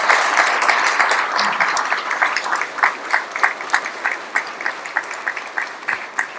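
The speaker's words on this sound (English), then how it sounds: "Just a round of applause to them" Applause from an awards ceremony audience for a Marine Corps color guard, a dense steady crowd clapping that thins toward the end into more separate, distinct claps.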